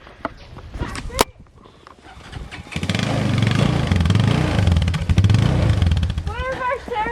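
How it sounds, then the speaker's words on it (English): A four-wheeler ATV engine on a homestead starts up and runs with a choppy, lawn-mower-like rumble near the mic, rising and falling as it revs, with voices around it. "The boys have started the four-wheeler."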